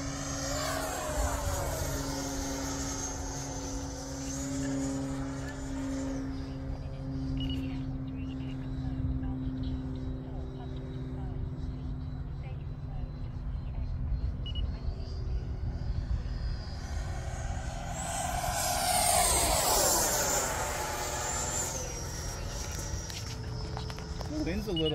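An Avanti V2 electric ducted fan RC jet with a 6s Li-Ion pack flies overhead, a steady whooshing turbine whine that rises and sweeps louder near the end as it passes close, under continuous talk from onlookers.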